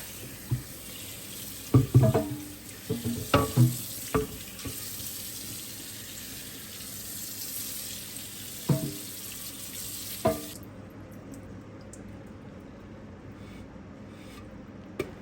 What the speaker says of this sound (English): Use lukewarm water, add a tiny drop of dish soap, and wash all sides quickly so the wood doesn't warp.